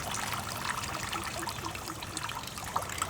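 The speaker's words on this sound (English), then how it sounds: "Now just wait for it to stop dripping" Water drains through a potted orchid after a thorough watering, giving a steady, soft, hissing trickle with scattered small drips throughout.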